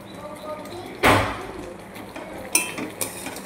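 Mango pickle stirred in a cooking pot gives a loud scraping clatter of spoon against metal, followed by a couple of shorter scrapes and clinks.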